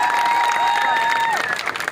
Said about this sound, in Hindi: तालियां बजा दो एक बार बहुत जोर की, जोरदार तालियां।